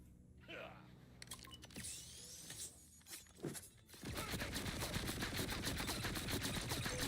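Rapid automatic gunfire from a weapon in Borderlands 4, a fast stream of shots that starts with scattered bursts and then runs as a dense, steady volley, loud and alone with no talking.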